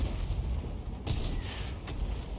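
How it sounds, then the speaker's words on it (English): A distant artillery shot in World of Tanks thumps once, followed by a second fainter blast, over a steady low engine rumble from a T92 HMC self-propelled gun. "somebody else in an Arty is also firing in that direction"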